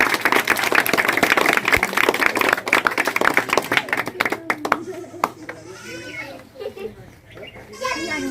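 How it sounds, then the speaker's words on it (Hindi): An audience claps for a family member at a student prize-distribution event at a coaching institute: dense, crowded applause for about four seconds, then thinning out as voices take over. "आइए, उनके लिए ताली बजाइए आप लोग।"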